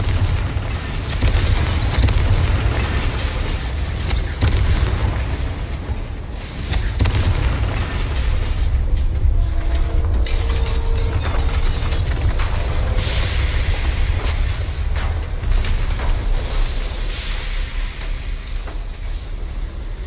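A blasting spell detonates in a Harry Potter video game: heavy booming explosions and rumbling debris roll on and off with sustained low noise, loud and close, with no talk over them.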